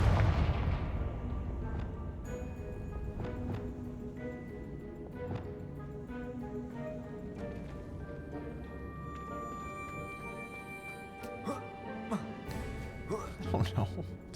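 A Confringo blasting spell explodes in Hogwarts Legacy, giving a loud boom-like burst at the start followed by lingering rumble, crackling debris and scattered impacts over a dense game soundscape with music.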